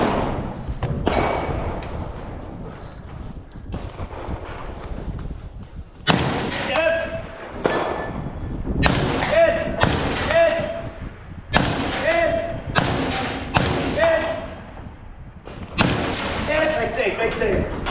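Gunshots at a team shooting match, including a Kel-Tec firearm: loud, sharp reports fire in quick clusters and separated volleys, each with a booming echo, starting after a stretch of outdoor background noise.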